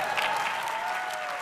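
A large audience bursts into sustained, dense applause at Harvard's Class Day comedy speech given by Ronny Chieng. The clapping stays loud and even throughout, with no speech over it.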